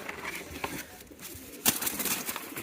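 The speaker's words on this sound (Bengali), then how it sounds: "এই যে দেখতে পাচ্ছেন কিং কবুতর জোড়াটা নিলাম" King pigeons cooing at a busy pigeon market, soft throaty coos repeating at close range amid light rustling and background bustle.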